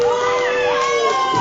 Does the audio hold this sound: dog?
no